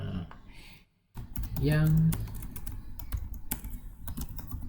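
Computer keyboard typing in a quiet room, light rapid clicks scattered under a person speaking, with a short pause and a brief hum partway through.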